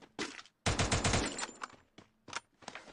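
Gunfire rings out in the Free Fire battle royale game. Several rapid automatic bursts sound fairly quietly, with one longer volley in the middle and shorter bursts after brief gaps.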